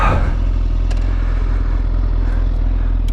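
A 2017 Honda CBR 1000 SP2 motorcycle engine idling or ticking over close by, a loud steady low rumble with faint clatter and no voices.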